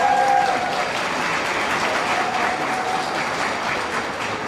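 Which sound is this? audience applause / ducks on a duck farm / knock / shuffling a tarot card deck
audience applause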